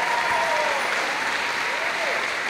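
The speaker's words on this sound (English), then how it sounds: "Let's give the chamber singers a round of applause." Audience clapping at a high school choral holiday concert for the chamber singers, a sustained wash of applause with a faint tonal whine drifting through, steady and full from start to end.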